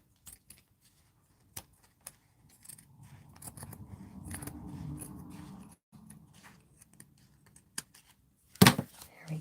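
Scissors trim paper for a daffodil-themed journal: scattered sharp snips and crisp rustling of paper close up, with a louder cut near the end.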